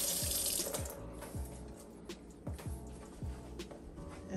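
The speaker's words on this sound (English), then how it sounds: "Well, now, wash my hands." Hands are washed under a running kitchen tap, water streaming steadily into the sink with splashes and rubbing, close and continuous without speech.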